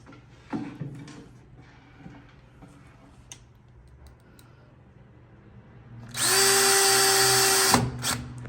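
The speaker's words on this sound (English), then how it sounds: "So now you just go ahead and drill your other hole." A cordless power drill bores a screw hole while a swinging screen door is installed. A few quiet taps and handling knocks come first, then a loud, steady high whine runs for about two seconds and stops abruptly.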